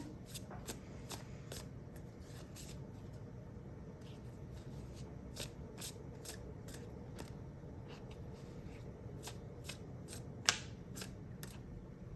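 Cards are shuffled in quick, crisp riffling bursts, repeated many times in a quiet room, with one sharper tap near the end.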